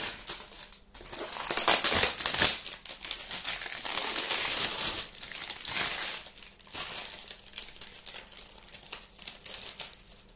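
A cardboard box with plastic wrap is torn open by hand without scissors, giving steady close crinkling, crushing and ripping for about ten seconds with no talking.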